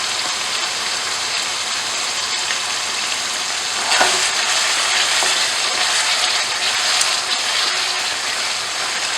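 Ketchup stirred into spicy aloo masala gravy frying in a pan, a steady close sizzle with a brief louder scrape and splutter partway through, no talking.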